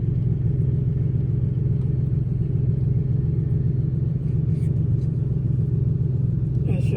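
After a battery replacement, a car engine idles with a steady low rumble throughout, close and constant, with faint clicks near the end.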